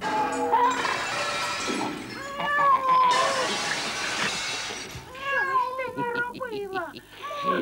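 A cat meows several times in a drawn-out, wavering voice, with speech present throughout the scene.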